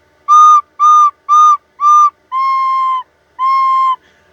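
Recorder notes blown on breath alone without tonguing: four short, evenly spaced tones followed by two longer held notes, each starting softly, clear and close with no other sound.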